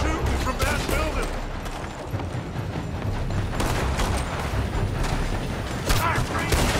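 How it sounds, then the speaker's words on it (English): Gunfire pours from a building in the Red Dead Redemption 2 video game, a dense, continuous fusillade of overlapping shots and booms, loud and sustained, with voices talking over it. "They're shooting from that building."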